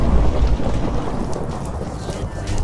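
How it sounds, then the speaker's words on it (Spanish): Thunder rumbles in Minecraft, a loud low roll at the start that fades into a steady wash of rain and wind, with no talking over it. "¿Ha caído un trueno?"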